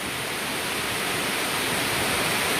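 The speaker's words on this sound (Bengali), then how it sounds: "লেকের জলটা পড়ছে দেখো" Water pouring steadily down from Khadarani lake, a loud continuous rushing roar close by, unbroken and even throughout with no voices.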